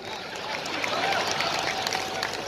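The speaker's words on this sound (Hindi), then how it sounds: "2-3 लोग ताली बजा रहे हैं" A few people clap at an evening mushaira and kavi sammelan poetry gathering in 2022, a thin, steady patter of hand claps from a sparse audience, with crowd murmur and a voice faintly underneath.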